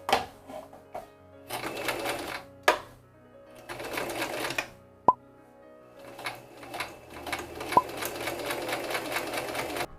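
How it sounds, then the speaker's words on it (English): A sewing machine runs in several short bursts of rapid stitching on a tote bag, close and fairly loud, with sharp clicks and knocks between the runs. "So this is my current sewing machine setup"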